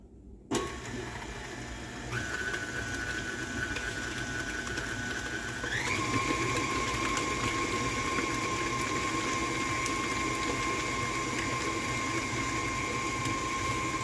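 An electric mixer beats coconut cake batter with a steady, continuous motor whine. The pitch steps up partway through as the speed increases, and the sound stays close and constant throughout.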